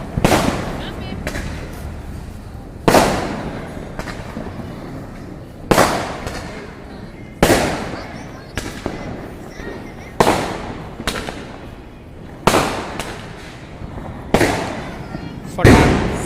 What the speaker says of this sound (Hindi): और पटाखे तो इतने चल रहे हैं ना